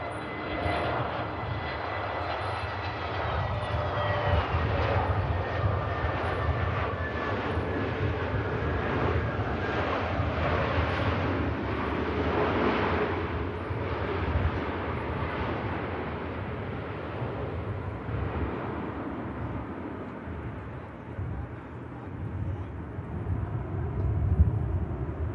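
A Scandinavian airliner lines up on the runway at Manchester Airport, its jet engines roaring loud and continuous with a whining tone that shifts slowly as it moves.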